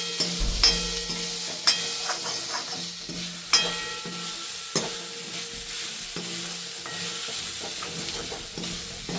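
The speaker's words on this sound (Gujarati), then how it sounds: "આપણું જે ક્રશ કરેલું છે એ આપણે સાતળી લેવાનું છે થોડુંક તેલમાં" Crushed green peas sautéing in oil in a pan, a steady close sizzle with stirring scrapes and a few sharp clinks of a utensil against the pan, no voices.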